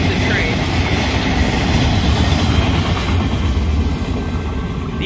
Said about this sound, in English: But that's the end of the train.